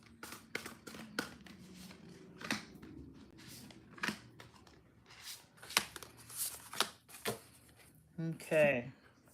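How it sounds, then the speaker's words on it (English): Tarot cards are shuffled by hand close up, a run of quick riffling flutters and sharp slaps in irregular bursts, ending with a brief voice. "when I was shuffling the cards for your reading"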